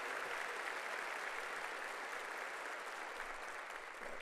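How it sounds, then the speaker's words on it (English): Brief burst of steady audience applause for an Oklahoma sportscaster of the year at a Golden Cane awards program, a dense clapping wash throughout. "So please, a big round of applause for him"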